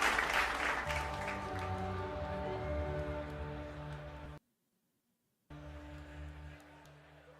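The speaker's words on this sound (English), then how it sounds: "Let me help you with the claps again" Applause from a large crowd at the CES 2026 tech show, a dense steady wash of clapping that runs for several seconds, drops out abruptly to silence, then resumes just as strongly.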